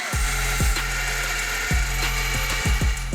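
Improvised vacuum tool sucking metal shavings out of a BMW engine, a steady loud suction roar with repeated pitch-sweeping whooshes as the nozzle shifts, no talking.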